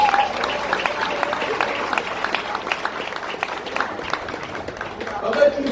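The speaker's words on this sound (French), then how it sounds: "notamment Baïna Bello, que je vous demande d'applaudir, s'il vous plaît." An audience at a café philosophy talk applauds with dense, steady clapping that lasts the whole stretch, while voices carry on over it.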